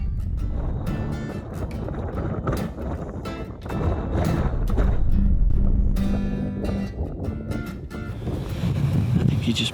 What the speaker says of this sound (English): The wind's so windy and cold.